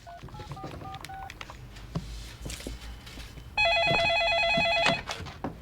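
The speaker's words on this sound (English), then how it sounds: "I decided it was time to give my ex a friendly phone call." Touch-tone telephone keypad beeps as a number is dialed: a quick string of short tones, then a louder sustained tone lasting over a second, with quiet background noise.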